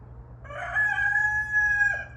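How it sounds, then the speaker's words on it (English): A rooster crows once, a single loud, close cock-a-doodle-doo held for over a second over a low background hum, with no talking. "he's been crowing quite a bit"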